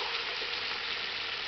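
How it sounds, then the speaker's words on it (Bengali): A pan of lote fish curry sizzles and hisses steadily at close range while it is gently stirred, with no voices. "এবার আস্তে আস্তে নাড়াচাড়া দিতে হবে"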